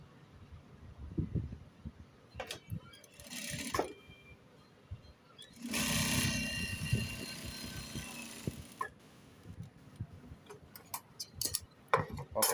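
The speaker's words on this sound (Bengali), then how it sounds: "পকেটের মুখটা সেলাই করে দেবো" A sewing machine stitches the mouth of a panjabi chest pocket in one run of about three seconds, surrounded by scattered handling clicks and light fabric rustle.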